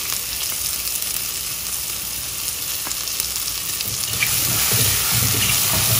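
Onion sizzles steadily in a hot pan while cooking for rice soup, a loud continuous frying hiss that swells a little louder near the end, with no talking.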